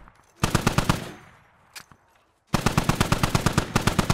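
Sustained automatic gunfire from a squad in a military video game, two loud rapid bursts separated by a short pause with a faint single shot in between.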